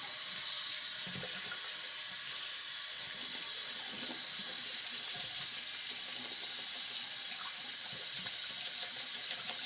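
A paint brush is rinsed under a running tap, a steady broadband hiss of flowing water into a sink lasting throughout at an even level, with faint small clicks and no speech.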